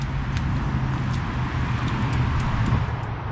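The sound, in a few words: road traffic noise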